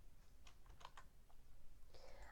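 Computer keyboard typing: a short burst of light, quick key clicks with uneven spacing, fairly quiet and heard alone, ending with a brief brighter sound.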